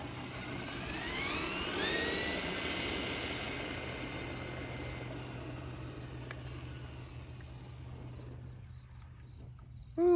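An Axial SCX6 RC crawler runs in second gear with a steady high electric motor whine and gear hum, faintly rising and falling as it drives outdoors, with no voices.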